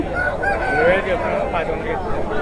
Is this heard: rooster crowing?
yes